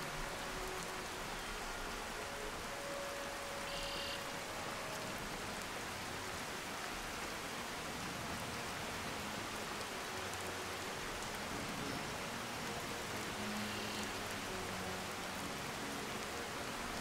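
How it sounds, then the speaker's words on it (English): Rain falls steadily in the video game Skyrim, a soft, even hiss of drops holding constant throughout at low volume with no talking. "Enjoy the rain."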